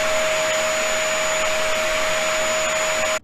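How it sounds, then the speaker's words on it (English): A vacuum cleaner runs steadily and loudly at close range with a constant whining drone, then cuts off abruptly at the end. "Oh, it's a vacuum."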